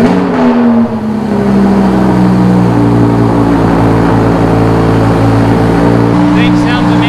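A Lamborghini Huracan LP580-2 cold-starts with a sharp rev flare, then settles into a loud, steady, droning high idle with a rich layered engine tone, close to the car.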